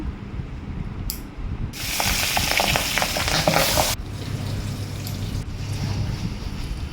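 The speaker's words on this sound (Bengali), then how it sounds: "মাছগুলি এক এক করে ভেজে নেব" Pabda fish frying in a hot pan, a sudden loud burst of spattering sizzle for a couple of seconds that then settles into a quieter steady crackle, heard up close.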